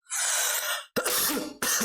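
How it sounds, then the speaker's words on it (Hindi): Three harsh coughs in quick succession, close and loud, with short pauses between them. "खांसी आ रही है यार आज"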